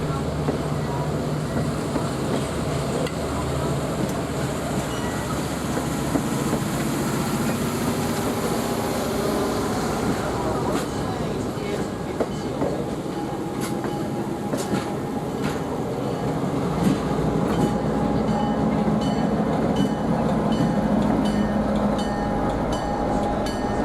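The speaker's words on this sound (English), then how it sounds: "Engineer Jack Traylor backs the Tag 80 up to the end of the Y and collects the RF&P 857, which is parked up near the NS interchange." Tag 80 locomotive backing along a heritage railway wye to couple onto the RF&P 857 passenger coach, with a continuous heavy rumble, rolling wheel clatter and metallic clanks, close and steady throughout.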